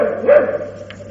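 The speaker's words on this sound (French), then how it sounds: "Si tu as acheté un chien, c'est bien pour qu'il aboie." A pet dog lets out one short, moderately loud bark, followed by faint soft sounds in a quiet indoor space.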